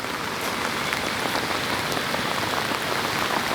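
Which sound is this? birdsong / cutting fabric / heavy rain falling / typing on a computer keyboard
heavy rain falling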